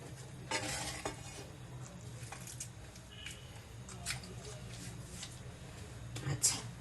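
Basanti pulao rice being mixed by hand with spices in a pot, giving soft, intermittent stirring and squishing sounds with faint sizzling, near and quiet, while a person talks throughout.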